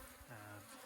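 Bees buzzing around an open beehive during an April spring inspection, a steady close insect drone with a brief louder swell.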